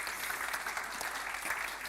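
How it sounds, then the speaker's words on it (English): Steady, dense applause from a conference audience at a European patient advocacy conference in Prague, a continuous even wash of many hands clapping at moderate volume throughout. "I think you can give an applause to that"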